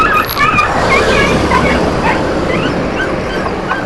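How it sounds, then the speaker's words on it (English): A dog whimpers and yips in a high, wavering voice close by, the cries repeating over a steady roar of wind and road noise while riding a bicycle downhill. "dog was crying"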